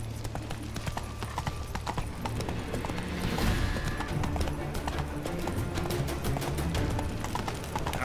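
Hoofbeats of Roach, Geralt's horse in The Witcher 3, galloping steadily in a rapid clip-clop rhythm over ambient game sound, with a brief neigh partway through; no talking.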